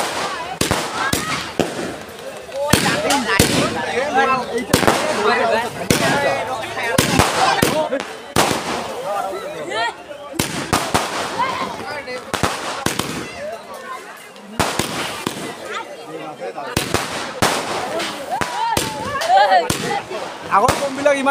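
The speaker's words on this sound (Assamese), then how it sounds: "এইবাৰৰ বমটো ভালেই" Firecrackers and fireworks burst at a Rash festival fair in Pukhuri Para, with sharp bangs and crackling in quick, irregular clusters, loud and close, under a continuous murmur of crowd voices.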